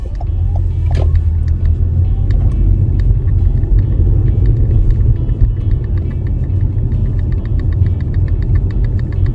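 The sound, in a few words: car moving off and driving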